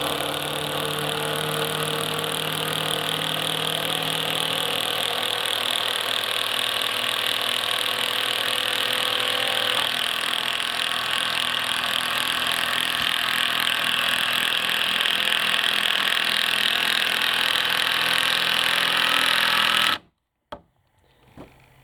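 Makita cordless drivers sink gauge batten screws into treated 6x2 timber, a steady loud whirring grind that runs unbroken for about twenty seconds and then cuts off abruptly into near silence.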